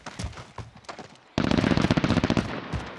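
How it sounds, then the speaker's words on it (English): Nail gun fire in the video game Call of Duty: Warzone: a few scattered quieter pops, then a sudden loud run of rapid, closely spaced shots for well over a second. "That's a nail gun."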